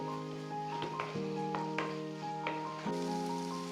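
Ginger-garlic spice paste fries in hot oil in a pan, giving a soft, steady sizzle with faint crackles, quiet and close, while low tones hum in the background.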